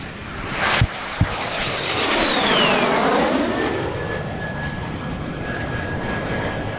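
A MiG-17 jet fighter at an airshow roars past loudly, its whine sweeping down in pitch as it approaches and recedes, with a sustained engine rumble and a couple of sharp knocks early on.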